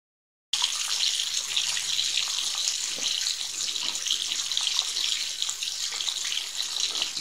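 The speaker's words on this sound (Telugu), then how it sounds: "నేను నీళ్ళు తీసుకొస్తా." Water runs from a tap in a steady, fairly loud splashing stream that begins abruptly after a brief silence. It continues unbroken to the end with no voices.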